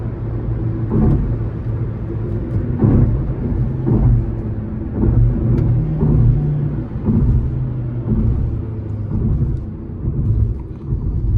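Cabin sound of a Fiat Egea 1.4 Urban Plus driving at about 115 km/h on smooth asphalt, a continuous low road and engine rumble, steady and fairly loud throughout.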